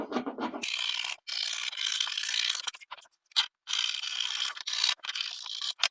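Scissors slicing through fabric while cutting out a child's A-line dress with cap sleeves, a series of bright rasping snips in close, steady bursts separated by short pauses, with no talking.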